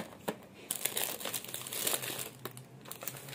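A plastic packet of cat treats crinkles and crackles close by as it is opened, in several uneven bursts of rustling.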